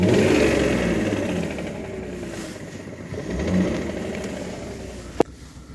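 A BMW E46 car engine revs close by, rising and falling in pitch with a slight rattle, ending with a sharp click.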